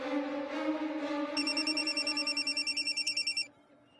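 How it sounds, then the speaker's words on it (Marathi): A telephone rings with a rapid electronic trill, one sustained ring lasting a couple of seconds over a low background hum. "अगं फोन वाजतोय, दे ना."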